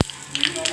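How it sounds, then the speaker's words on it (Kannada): Curry leaves hit hot oil with a sharp crackling splutter that settles into a light sizzle, short and close. "ಇವಾಗ ಕರಿಬೇವಿನ ಸೊಪ್ಪು ಹಾಕ್ಕೊಳ್ಳೋಣ. ಸಿಡಿಯುತ್ತೆ ಚಿಟಕಿ ಹಿಂಗೆ ಹಾಕ್ಕೊಳ್ಳೋಣ."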